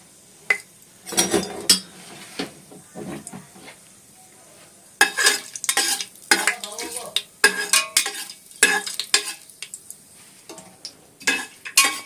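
Ingredients fry in a pan with bursts of sizzling and scraping stirring, the utensil clattering against the metal in irregular strokes with quiet pauses between.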